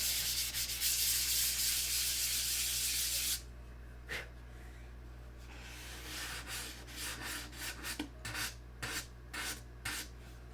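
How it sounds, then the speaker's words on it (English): Sticky-back sandpaper held by hand rubs across an airplane's surface in short, rhythmic strokes, heard after a stretch of steady hiss, close and fairly quiet. "this is like the 5th or 6th sand out of this airplane, and we'll keep sanding until I rub it raw"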